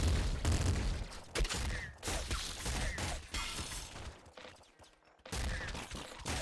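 Dense, rapid gunfire and explosive bursts from weapons in the video game Nuclear Throne, loud and continuous with brief gaps and crackling impacts throughout.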